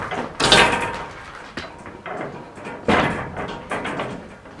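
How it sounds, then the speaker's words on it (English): A homemade door latch in a CNC workshop is worked by hand. A series of close clacks, rattles and knocks is followed by a sliding, thumping door movement, loud and uneven, with no voices. "just put this latch together yesterday. I can operate it from the inside or the outside."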